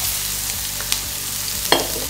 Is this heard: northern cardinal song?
no